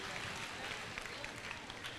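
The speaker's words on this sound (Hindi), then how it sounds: "वाह, तालियां बजा दो" A gathered audience claps for a little girl at the Kumbh Mela in Prayagraj, with steady, dense applause and scattered individual claps standing out throughout.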